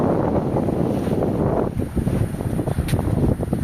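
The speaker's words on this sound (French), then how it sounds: "C'est des rafales, donc je m'inquiète pas." Wind gusting at sea aboard a sailboat, a loud, continuous buffeting roar of wind against the microphone with rushing water and surging gusts, no voices.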